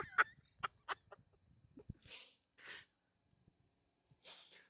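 A person sneezes suddenly during a night session in a dark place, a couple of quick, sharp bursts with brief breathy noises between them, followed by soft, hissy exhalations and near silence.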